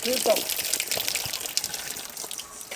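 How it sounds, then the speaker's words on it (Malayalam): Cold well water is poured out in a gushing, splashing stream, loud and close, while people talk over it throughout. "ഒരു ശകലം ഒന്ന് ഒഴിച്ചു തരാം"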